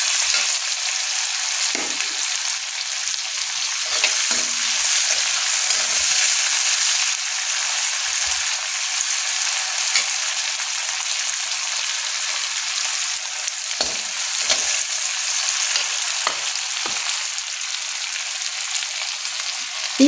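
Onion stir-fried in a pan over a high gas flame gives a steady, loud sizzle that holds for the whole stretch, with occasional scraping stirs breaking through and no talking.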